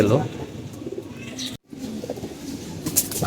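Pigeons in a rooftop coop coo and rustle close by, with a short silent gap midway, and a voice is heard faintly in the background.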